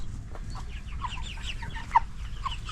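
Heavy meat chickens around seven weeks old cluck softly on pasture, a steady low murmur of overlapping calls from several birds with one brief louder cluck standing out.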